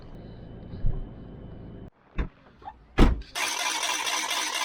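A car is started at a meeting point where bikes are loaded before driving to Kobarid. A few clunks and a sharp crank lead to the engine catching, followed by a steady running drone close by.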